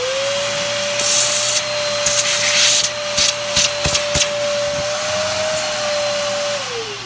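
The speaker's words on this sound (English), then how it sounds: "we're going to put our trusty shop vac over here and suck the debris out of here" A shop vac sucks drilling debris out of a hole where a broken bolt is being drilled out, a loud, steady whine held for several seconds with rattling bursts as chips are pulled in, then winding down.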